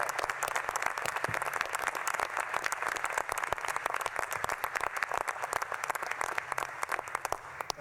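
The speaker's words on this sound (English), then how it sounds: "Let's give them all a round of applause." Audience applause at a government space council meeting, a dense steady wash of many hands clapping that fills the whole stretch at even loudness with no talk over it.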